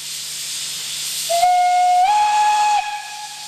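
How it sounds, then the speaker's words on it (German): Loud hissing steam fills the air, then a steady whistle sounds for about a second and a half, stepping slightly higher before cutting off. "diese Dampflok bei Ihrer Arbeit auch akustisch genießen können"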